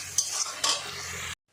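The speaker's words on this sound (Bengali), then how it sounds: "সবগুলো এবারে নেড়ে চেড়ে নেব" Spices fry in a pot for a country chicken curry as a spatula stirs them, with two quick scraping strokes over a soft sizzle before the sound cuts off abruptly.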